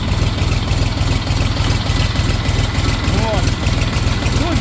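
A small Sintai Scout tractor engine idling quietly with a steady low rumbling pulse, heard close and continuous across the whole clip.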